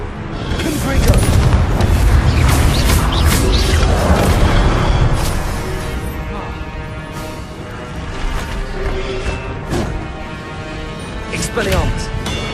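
Confringo fire spell blasts in Hogwarts Legacy, booming magical explosions cast repeatedly amid combat effects, loud and close, with a person talking over them.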